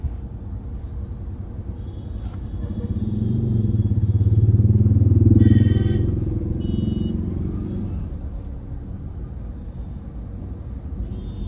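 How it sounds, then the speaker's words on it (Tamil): Steady low road rumble fills the cabin of a 2024 Maruti Dzire, swelling louder for a few seconds as traffic passes, then settling back to a constant hum. "ஒரு டிராஃபிக்கில் இருந்தால் கேபின்குள்ளே எந்த அளவுக்கு நாய்ஸ் வருதுன்னு கேட்கலாம்"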